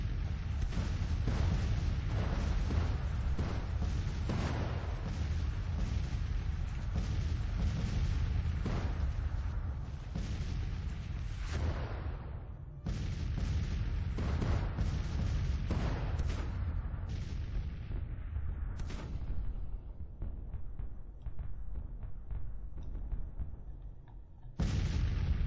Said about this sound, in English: the Union has brought up a lot of artillery to try to shell us out of position